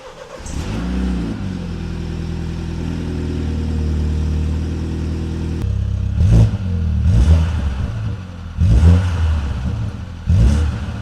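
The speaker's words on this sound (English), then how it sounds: "let's start the vehicle up and check out how it sounds." MINI in sport mode starts with a whirring crank and settles into a steady idle, then the engine is blipped four times in sharp, loud revs with brief drops in between.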